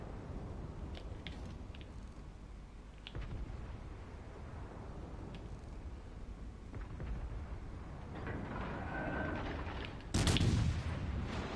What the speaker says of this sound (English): Colorado's firing HE?